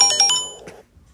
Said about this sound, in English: GTA 5 notification.